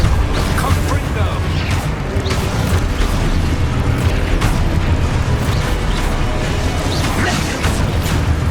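A Confringo blasting spell explodes in the Hogwarts Legacy video game, giving booming, crashing bursts amid rapid combat effects, with a voice shouting the spell names over the continuous loud clatter.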